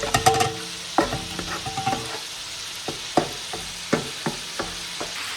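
Chicken frying in a frying pan, a steady sizzle broken by sharp clanks and scrapes of stirring, close and clear with no talking.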